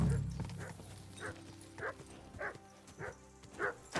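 A dog barks in a video game, six short sharp barks at a steady rhythm over looping background music, moderately close and fairly loud.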